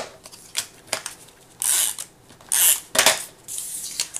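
Paper being snipped with scissors, polka dot and snowflake sheets cut at a diagonal for layered pennants on a seasonal card; short crisp cutting strokes and rustles, a few louder snips near the end, close and alone.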